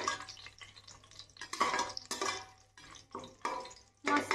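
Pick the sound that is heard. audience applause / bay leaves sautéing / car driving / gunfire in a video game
bay leaves sautéing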